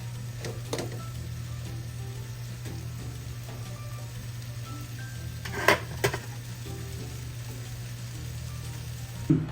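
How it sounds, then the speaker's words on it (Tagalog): An egg frying in a pan for a dish of ampalaya with century tuna, giving a soft, steady sizzle over a low constant hum, broken by a few sharp clicks and taps from utensils. "antayin po natin na maluto yung itlog at pwede na po tayong kumain."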